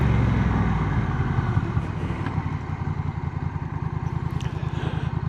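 A Honda CMX1100 DCT motorcycle's 1100 engine thrums low and steady while riding, its lumpy pulsing beat becoming more distinct toward the end, with faint wind noise over it.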